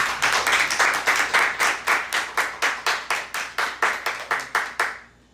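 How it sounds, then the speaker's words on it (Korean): A church congregation claps in praise during Sunday worship, a loud, even rhythmic beat of many hands in unison, about fifteen strong claps that stop cleanly at the end. "아버지께 감사와 찬송의 영광의 박수를 한번 올려드리겠습니다"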